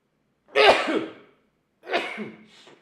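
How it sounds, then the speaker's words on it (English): Two sneezes close to the microphone: a sharp, forceful first burst, then after a short pause a second, softer one that trails off, with nothing else around them. "I'm going to sneeze again."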